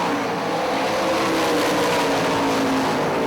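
Sprint cars racing side by side on the Hartford Speedway Park dirt oval, engines roaring in a steady, loud continuous drone as the pack powers out of a corner.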